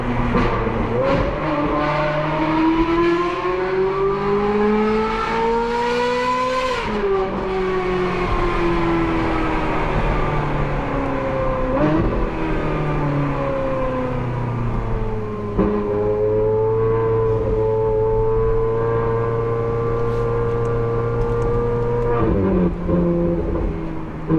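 A Ferrari sports car engine with an aftermarket muffler revs hard and continuously, its pitch climbing and dropping through gear changes with a loud, throaty exhaust note.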